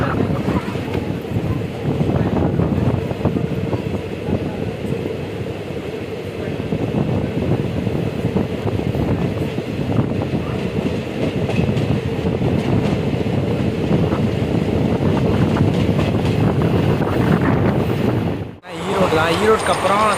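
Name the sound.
passenger train running at over 100 km/h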